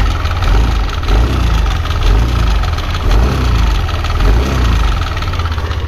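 A Yamaha NMAX scooter engine idles loud and close, running rough with a continuous clattering, knocking pulse over a low rumble.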